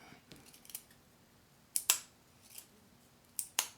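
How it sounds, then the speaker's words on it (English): A Tactile Turn Slim bolt action pen from 2022 clicks sharply in two quick pairs, each bolt stroke a crisp double snap, close and clear against a quiet room with no talk. "nice bolt action. Still slightly on the stiff side"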